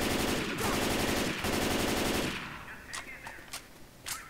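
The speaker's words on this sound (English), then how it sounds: "I'm shooting the wall" Rapid automatic gunfire in a video game hits a wall in two long sustained bursts, followed by several sharper single shots and short bursts that sound more spaced out as the firing tails off.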